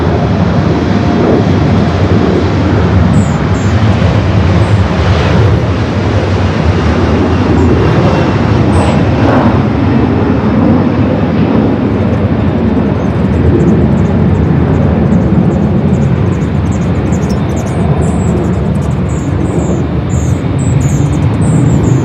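A passenger airliner rolls down runway 24 left at LAX on its takeoff run, a loud, continuous roar of jet engines with a broadband rush that holds steady throughout.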